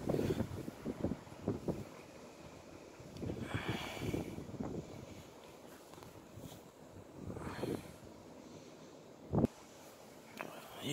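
Strong gusts from storm Carmen in Le Mans, a broad rushing roar that swells and fades several times with wind buffeting the microphone, and a short sharp thump near the end.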